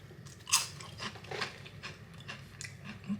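Singapore Lay's potato chips crunch under close, quiet chewing, with a sharp bite near the start followed by softer irregular crunches.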